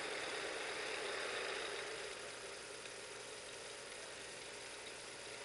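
A Visible V8 model engine idles with a faint, even, steady running hum and a light mechanical rattle, heard close up and alone.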